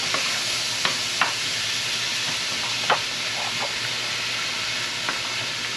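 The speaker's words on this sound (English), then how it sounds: "Alright, we're going to let this fry down nicely." Celery and green pepper fry in a pan for a wild hog stew, giving a steady, close sizzling hiss with a few soft clicks and scrapes of stirring; no one speaks.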